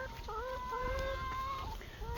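Backyard egg-laying chickens clucking and calling in a rising, wavering series of notes, fairly faint and steady with a soft background hum, no talk over them.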